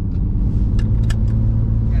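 Porsche 996 Turbo with KW coilovers driving, a loud steady low engine drone from inside the cabin with brief sharp ticks and clicks on top, and a voice speaking over it.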